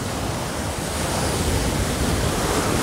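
Sea surf washes steadily onto Praia do Burgalhau in Maragogi, Alagoas, on a sunny day. The waves form a continuous, fairly loud roar with wind noise mixed in and no voices.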